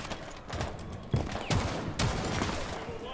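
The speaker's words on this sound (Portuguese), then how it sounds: "Barbie, dá um tiro de 2 aqui pra mim, só pra abrir um buraquinho." Several sharp gunshots crack out in quick succession over a dense, noisy video game soundscape, each burst loud and close.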